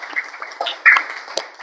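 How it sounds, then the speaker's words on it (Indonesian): Classroom applause for a presenting student group, a short patter of a few hands clapping nearby, uneven and brief, with a couple of sharper claps standing out. "bisa kembali kasih tepuk tangan dulu untuk kelompok 2."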